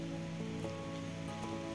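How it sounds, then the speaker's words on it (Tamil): Rain falls steadily on an exotic fruit farm planted with heliconias, a soft, even patter with faint drops against a constant background hum. "மழை பெஞ்சிட்ருக்கிற சவுண்ட் வந்து உங்களுக்கு கேட்கும்னு நினைக்கிறேன்."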